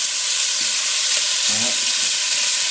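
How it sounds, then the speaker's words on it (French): Chopped onions simmer in a pot for a chicken and merguez couscous, giving a steady, close frying sizzle and hiss throughout, with a brief spoken word near the middle. "Donc on laisse mijoter tout ça tranquillement"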